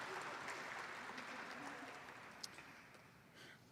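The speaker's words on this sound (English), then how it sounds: "Please give them another round of applause" At a children's benefit luncheon, an audience claps for the sponsors, a fairly faint, steady round of applause heard from a distance that gradually thins out.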